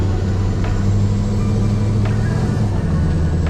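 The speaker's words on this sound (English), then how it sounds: "we're legitimately driving a Duramax Swap, LBZ powered, crew cab long bed, F350 Super Duty" Crew cab long bed Ford F350 Super Duty with a swapped LBZ Duramax diesel driving out to a farm field, a steady loud low diesel drone and rumble with a few faint clicks, close and continuous.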